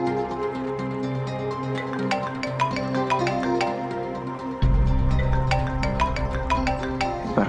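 A phone rings on and on without being answered, its repeating electronic melody running steadily through the scene with no voices over it, and a low rumble joins partway through.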